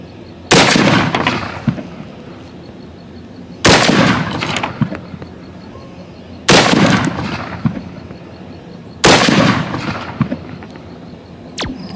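Four loud rifle shots from a Remington 742 Woodsmaster in 30-06, fired outdoors at a steady spaced rhythm, each a sharp crack followed by a rolling echo, with no talking.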